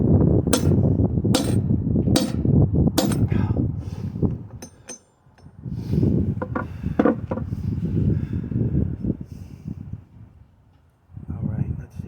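A hammer drives an outer bearing race into an MGB wheel hub outdoors with four loud, sharp metallic strikes in quick succession, followed by someone talking close by.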